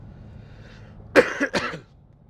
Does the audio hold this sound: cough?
yes